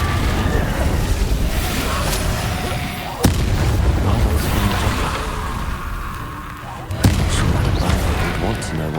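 Confringo spell explosions in the video game Hogwarts Legacy, sustained booming blasts with sharp impacts near 3 and 7 seconds, amid dense game sound and voices.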